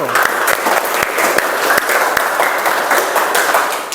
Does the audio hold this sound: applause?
yes